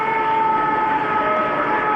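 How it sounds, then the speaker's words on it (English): Oxygen generators releasing oxygen at high temperature during an airliner cargo-hold fire simulation, heard as a loud, steady, whistling hiss with tonal overtones that holds without pause. "That sound is the oxygen generators releasing their oxygen under these higher temperatures."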